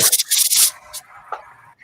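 Coarse, rhythmic rubbing strokes of sandpaper scraping a surface up close, a few quick passes followed by quieter scratching.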